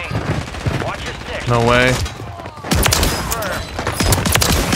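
Rapid bursts of shotgun fire from a fire-themed shotgun in the video game Warzone 3, several loud close shots in quick succession amid game effects, with players talking excitedly over the action.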